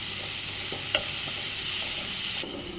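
Mutton keema fries in a pan with a steady close sizzle and hiss, punctuated by a single sharp spatula tap and a few soft stirring scrapes.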